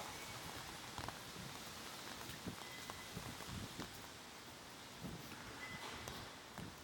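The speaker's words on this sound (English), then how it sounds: "I think it's raining, still raining but not quite as much." Light rain, soft and faint, with scattered drops and occasional pattering ticks against a surface, no voices present.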